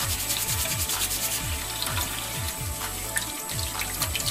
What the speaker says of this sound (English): And we just scrub. It also helps to shine up your piece as well.